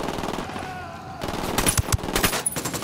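Gunfire in the video game Tom Clancy's Ghost Recon Wildlands: a few sharp, loud shots ring out over a steady game background, with a couple of strong close reports near the end.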